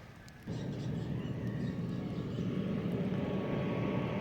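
An airplane passes overhead outdoors, a steady, broad engine roar that swells after a quiet start and holds loud and even throughout.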